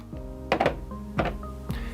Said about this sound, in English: Take off the top cap.